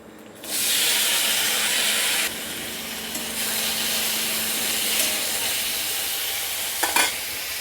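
Cut vegetables hit hot oil tempered with five-spice, bursting into a loud, steady sizzle that eases slightly after a couple of seconds, with a brief clatter of stirring near the end.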